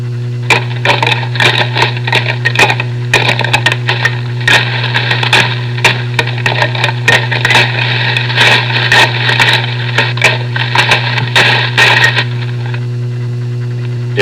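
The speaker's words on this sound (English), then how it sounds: "Then rake the horns against the rough bark of the small tree trunk and into the bushes." Deer antlers raked hard against the rough bark of a small tree trunk and through bushes, giving a dense run of scraping, cracking, brushy clatter for about twelve seconds over a steady low mains hum from an old reel-to-reel tape.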